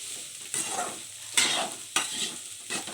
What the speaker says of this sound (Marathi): मिक्स करायचं बघा, असं मिक्स करत राहायचं